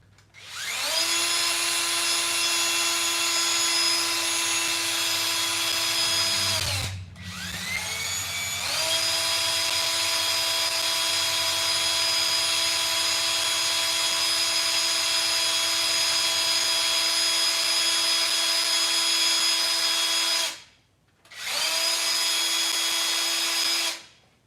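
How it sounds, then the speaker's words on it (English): Power drill stirring resin for live edge coasters, a loud, steady high-pitched whine running for long stretches, briefly stopping and restarting twice. "let's go ahead and mix this up. Close your ears if you don't like the drill sound"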